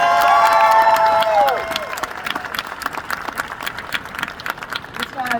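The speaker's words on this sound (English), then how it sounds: "let's give it a round of applause for these guys from the Oak Creek Fire Department" An audience at an American Heart Association gathering cheers and claps for the Oak Creek Fire Department crew, loud whoops and shouts at first, then sustained clapping from many hands fading somewhat.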